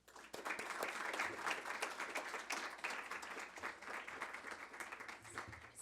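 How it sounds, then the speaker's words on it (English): A seated audience applauds a guest speaker at a lecture. The clapping rises quickly, then holds as a dense, even wash for about six seconds before thinning slightly. "let's join me in giving her a round of applause"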